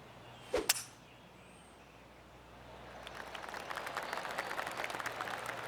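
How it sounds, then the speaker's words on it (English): Golf spectators around the course at a par 4 fourth hole break into scattered, polite clapping that swells and carries on steadily after a sharp crack of a tee shot near the start. "I can hear the golf claps around the course."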